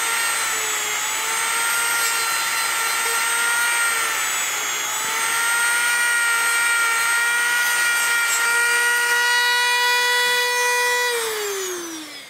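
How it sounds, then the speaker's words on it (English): Power sander fitted with a sanding disc running at high speed, a steady whining motor tone with strong harmonics that holds for several seconds, then winds down at the end. "I'll probably use sanding disc on here"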